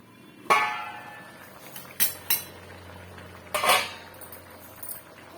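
A metal lid lifted off a pot of okra curry on medium flame, followed by a few sharp clinks and clangs of a spoon against the pot while mixing, with quiet gaps between.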